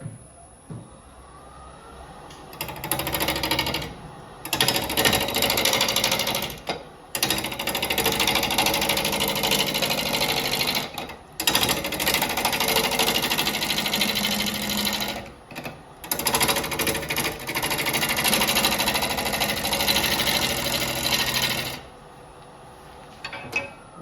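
A wood lathe spins a rough cherry bowl blank as a gouge rounds it off, a steady loud whirring cut with brief pauses where the tool lifts away, and no talking over it.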